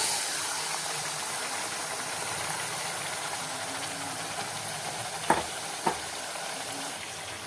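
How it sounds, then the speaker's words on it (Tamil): Chicken pieces sauté in hot oil with fried shallots and curry leaves in a pan, giving a steady close sizzle and hiss, with two quick scrape-like clanks of stirring partway through. "இப்போ நம்ம வாஷ் பண்ணி வச்சுருக்க சிக்கனையும் சேர்த்துக்கலாம்."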